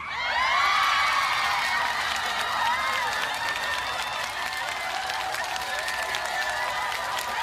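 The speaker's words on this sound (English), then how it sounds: "Can I get a round of applause?" Crowd applause after a cabaret debut performance at 54 Below: a loud, continuous wash of clapping mixed with cheers and whoops from the audience, sustained throughout.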